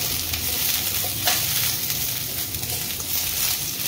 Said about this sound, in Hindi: बस चलाते हुए लगातार इनको इस तरीके से सौते कर लेंगे।